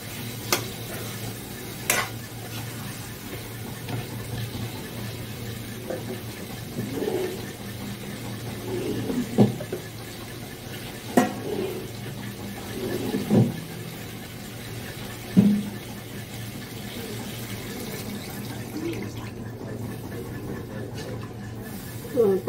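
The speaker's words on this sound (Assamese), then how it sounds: "পানী দিম অলপ।" Water splashes into a hot pan of frying food, setting off sizzling and bubbling, with scattered clattering stirring noises over a steady low hum and a voice heard now and then.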